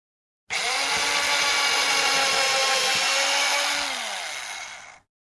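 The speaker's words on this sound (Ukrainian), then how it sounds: "Звук дрелі." An electric drill whirs loudly and steadily for several seconds, its pitch dropping slightly as it winds down and stops.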